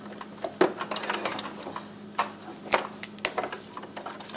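A sewing machine stitches an exposed zipper on an outer garment, running close beside the zipper teeth; soft mechanical ticking and light clicks come at a steady pace, fairly quiet and close, with no talk.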